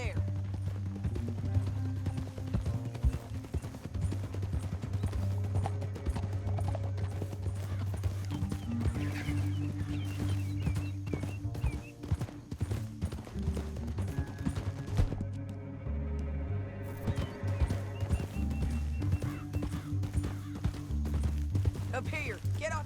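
Horses' hooves clip-clop steadily through a Red Dead Redemption II ride, a continuous rhythmic clatter under a bed of game music and ambience, with occasional whinnies and voices talking over it.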